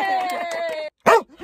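A pet dog on command inside a car gives one short, sharp bark after a stretch of a person talking, the yip loud and close, followed by a quieter trailing sound.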